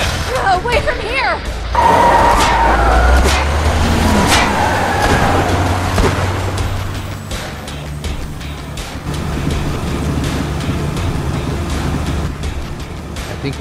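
A car in the video game Tales from the Borderlands revs and drives off with a steady low engine rumble under busy game sound, fading somewhat toward the end.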